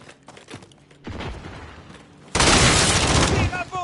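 Video game gunfire in a multiplayer shooter, scattered shots building into a loud, dense burst of rapid fire near the end, with a voice calling out over the action.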